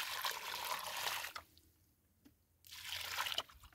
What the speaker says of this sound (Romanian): Hai, putem pune puțină apă acum.